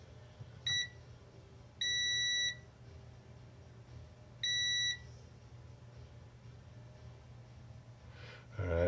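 A multimeter on continuity mode beeps while probing capacitors on a dead hard drive board during microsoldering: one short chirp, then two longer, steady high tones about two seconds apart, clear over a quiet bench hum with no talking.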